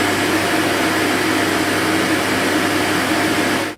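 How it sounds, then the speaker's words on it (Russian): A Roborock Qrevo Master robot vacuum's docking station empties debris with a loud, steady roaring whoosh that holds constant close by before cutting off abruptly at the end. "Выгрузка мусора на станции занимает 20 секунд, а уровень шума в это время достигает 72 дБ"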